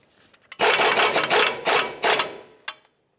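A ratchet wrench with a 24 mm socket snugs the lower ball joint nut on a 2005-2010 Dodge Dakota, making four close, rapid bursts of clicking, then one short final click.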